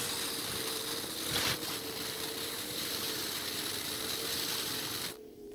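A lift climbs between floors with a continuous mechanical whir and a steady hum tone, a faint rattle near the start, then cuts off abruptly to near silence just before the end.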